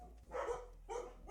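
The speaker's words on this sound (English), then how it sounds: "Sorry about the dogs." Dogs barking in the background, two short bursts of barks, fairly faint and alone with no talk over them.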